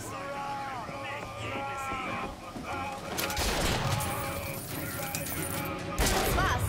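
A sniper rifle fires in BioShock Infinite, with sharp shots and loud bursts in the second half over game music, while someone talks.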